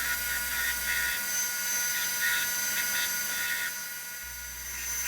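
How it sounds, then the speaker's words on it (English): Belt grinder with an 8-inch contact wheel roughing out a sword pommel, giving a steady, fairly loud high-pitched hiss and whine that runs continuously with slight surges, and no talk. "Here I move to the 8-inch wheel on my belt grinder to roughen the shape of the"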